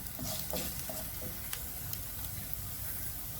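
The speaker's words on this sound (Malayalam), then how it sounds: "അതിലേക്ക് നമ്മൾ 1 സ്പൂണ് ഉലുവ, ഉലുവായിട്ട് നല്ലതായിട്ടൊന്ന് ഇളക്കി കൊടുക്കണം" Fenugreek seeds frying in hot oil with ginger and garlic, a soft continuous sizzle with a few scraping stirs of a spoon in the pan early on, moderately quiet and with no talking.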